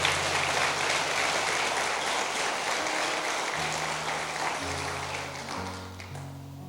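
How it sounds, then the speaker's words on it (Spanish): Church congregation applause during a Spanish-language sermon, sustained clapping throughout while organ or keyboard chords sound underneath in the second half. "Démosle un aplauso al Señor."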